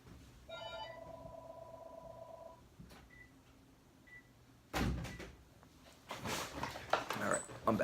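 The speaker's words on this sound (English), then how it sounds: "Sorry about that. It's the phone." A phone rings with a short electronic trill near the start, then a couple of faint beeps, followed by louder handling and clattering noises close by.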